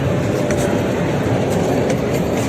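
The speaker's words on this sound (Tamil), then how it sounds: "அங்கே ட்ராகன் ட்ரெயின் இருக்குது." A dragon-themed ride train at a school exhibition in Kumbakonam rumbles past loudly and close, with steady rattling wheel clatter and faint rhythmic clicks, no voices.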